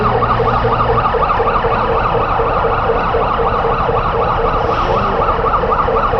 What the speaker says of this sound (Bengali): বাংলাদেশ ফায়ার সার্ভিস এবং সিভিল ডিফেন্সের দ্বিতীয় গাড়িটিও চলে এসেছে